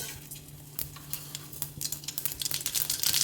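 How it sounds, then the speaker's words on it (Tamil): Mustard seeds fry in hot oil in a pan while making rava idli, a close sizzle with scattered sharp pops and crackles that grow denser toward the end. "எண்ணெய் காஞ்ச அப்புறம் கடுகு"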